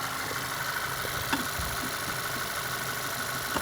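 A steady petrol engine of a 2012 Skoda Octavia A5 1.8 idles close by, a continuous low rumble with even mechanical hum and a couple of faint ticks, no voices.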